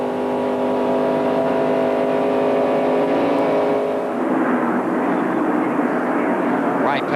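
NASCAR stock cars in the 1993 Winston Cup Daytona 500, a steady droning engine tone building into a loud, roaring rush as the pack sweeps past, with commentary audible beneath.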